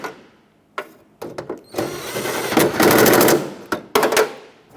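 Power tool snugging the mounting nuts on a rear exterior door handle of a Chevy Express 3500 van, close rattling impact bursts in several short runs separated by brief pauses.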